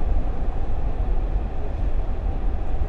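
Steady, dense rumble of a train moving in the video game Platform 8, a continuous low roar and rattle filling the space without a break, with no voices.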